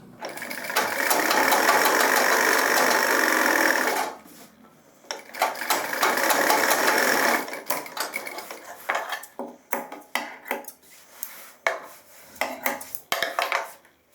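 A sewing machine sews a trouser seam in one steady run of about four seconds, then switches to short stop-start bursts mixed with clicks and handling noises. Close-up, with no voices.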